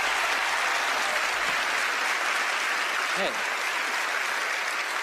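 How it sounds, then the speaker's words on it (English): A studio audience applauds steadily as the magicians Penn and Teller come onstage at a magic show taping, dense clapping filling the room with a brief spoken greeting over it. "Give them a big round of applause."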